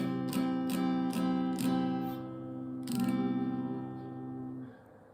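A barre chord is strummed on guitar several times in a steady rhythm, then once more and left to ring out and fade, close and fairly soft.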